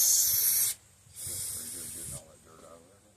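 Carb cleaner sprays through the carburetor of an Onan 3.0AJ-1R generator in two short, close, loud hissing bursts, the second slightly longer.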